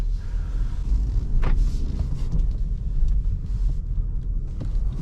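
Cabin of a Hyundai Tucson 1.6 T-GDi 48-volt petrol mild hybrid on the move, a steady low road and engine rumble with faint clicks and rattles, no speech.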